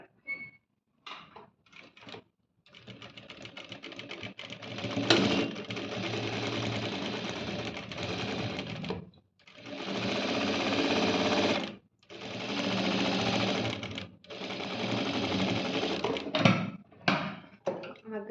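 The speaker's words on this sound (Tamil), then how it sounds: "நம்ம டபுள் ஸ்டிச் போட்டுறணும், அதாவது ஸ்ட்ராங் ஸ்டிச் போட்டுறணும்" A sewing machine runs in long, steady bursts while stitching a double, strong seam on a boat-neck blouse neckline, with brief pauses between runs and a few soft handling clicks at the start and end.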